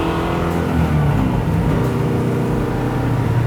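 A custom 1967 Camaro built to make over 600 hp rumbles as it drives, a close, deep, steady engine note with slight swells in pitch and no talking.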